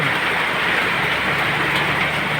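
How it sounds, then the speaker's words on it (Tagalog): Steady, dense rain from a low-pressure system in Samar pouring down hard, a continuous loud hiss with no pauses. "Grabe, sobrang ulan sa amin dito."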